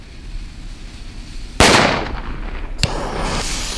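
Two sharp firecracker blasts outdoors from Piromax C4 mini and Jorge JC05 firecrackers, a loud bang followed by crackling decay, then a second smaller pop over steady background noise.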